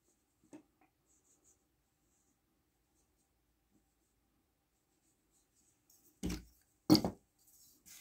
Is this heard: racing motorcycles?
no